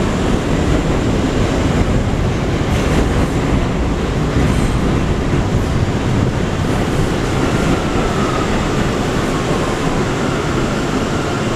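An R179 subway train on the A line rumbles along at steady, loud volume, with continuous wheel and track roar and a faint clickety-clack, heard from inside the car.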